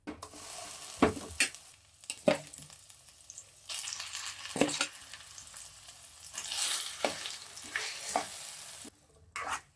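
Ground raw papaya stirred and sautéed in ghee, a continuous sizzle broken by repeated scraping strokes of a spoon against the pan, close and clear, with a brief quiet gap near the end and no talking.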